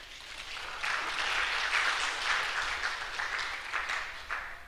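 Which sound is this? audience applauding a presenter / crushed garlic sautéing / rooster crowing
audience applauding a presenter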